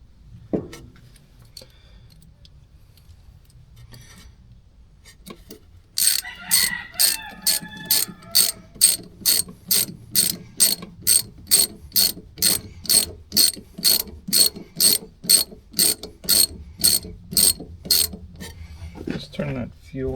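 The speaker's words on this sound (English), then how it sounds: "And then let's tighten this clamp." A ratchet wrench tightens a hose clamp on an MEP803A military generator, giving a long run of evenly spaced, loud close clicks after some quiet handling noise.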